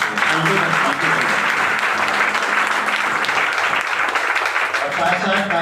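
A business seminar audience applauds in a steady, dense wash of clapping that holds loud and even throughout, with some voices and cheers mixed in beneath it.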